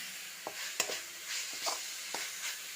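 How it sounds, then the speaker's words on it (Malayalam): Garam masala stirred in a hot pan for a roasted-coconut mutton curry gives a soft, steady sizzle broken by a few quick spoon scrapes and taps against the pan. "ഗരം മസാല ഇട്ട് കൊടുക്കാം അഞ്ചോ പത്തോ സെക്കൻഡ് ഒന്ന് നല്ലപോലെ ഇളക്കി കൊടുക്കാം"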